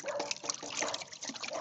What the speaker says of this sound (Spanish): Y vamos a echar ya la cal en el cobre.